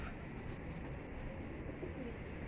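A pigeon coos softly at a kept pigeon loft in Lahore, faint low calls buried in steady background hiss and distant rumble for a couple of seconds.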